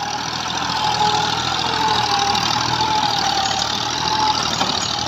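A model 240 tractor pulls a 54-blade rotavator in third gear, its engine holding a steady, droning mid-pitched run with a constant mechanical churn throughout.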